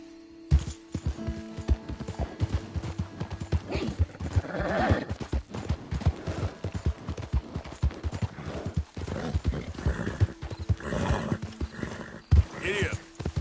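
A horse in the video game Red Dead Redemption 2 clip-clops along at a brisk gait and whinnies, with hoofbeats loud and close and a few game voices and noises mixed in.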